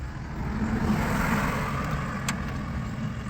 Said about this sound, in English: The car's driving way better.